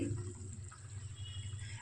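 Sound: water poured into village-style fish curry

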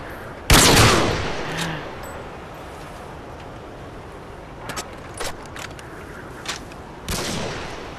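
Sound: artillery shell fire from a video game

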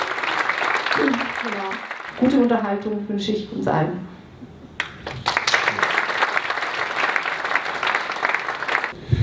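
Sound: audience applause for the speaker

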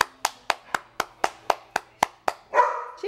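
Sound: baby clapping hands

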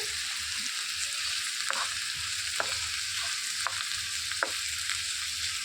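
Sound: onions and green chillies frying in oil

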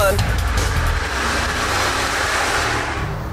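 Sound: Porsche Cayenne Turbo twin-turbo 4.5 liter engine driving

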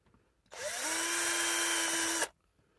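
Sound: power drill drilling through wood

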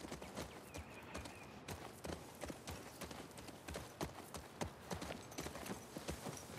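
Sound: horse hooves clip-clopping, from video game The Last of Us Part II

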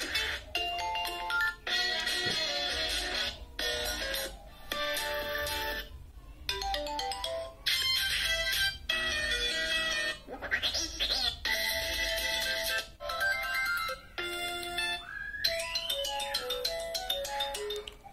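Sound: phone ringtone preview on Tecno Spark 8

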